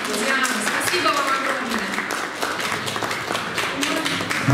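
An audience applauds at the Miss Kevad 2018 beauty contest awards ceremony: dense, sustained clapping throughout, with people talking over it.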